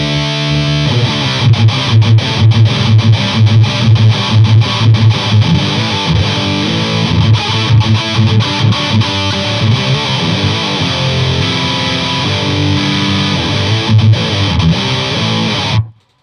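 A Boss Metal Zone distortion pedal with the drive pushed past center, run through a boutique power amp, pours out loud, dense, saturated electric guitar chords and riffs for about sixteen seconds before cutting off abruptly.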